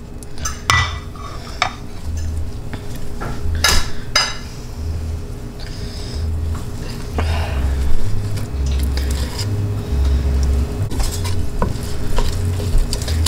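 Cream cheese stirred little by little into creamy mac and cheese in a pan, giving a steady wet squelching and spoon scraping under a low hum, with occasional sharp clinks of utensil on metal.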